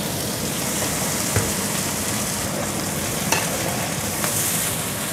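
Shrimp stir-frying with spices in a hot pan, a steady close sizzle and crackle running throughout with a few soft clinks of stirring, no voices.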